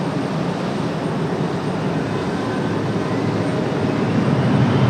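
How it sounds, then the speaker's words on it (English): Aircraft engine run-up before departure at Raleigh-Durham International Airport, a steady loud broadband roar that holds constant throughout with no talk over it. "I think we've got time to swing around here and capture their engine run up here."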